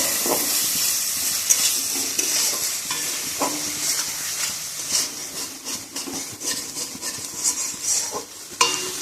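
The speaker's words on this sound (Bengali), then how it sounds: "এবার ভালোভাবে চিংড়ি মাছের সঙ্গে কষিয়ে নেবো।" Prawns with chili powder, green chilies and spices are sautéed in a pan, giving a steady close sizzle with frequent scraping and stirring strokes throughout, and no talking.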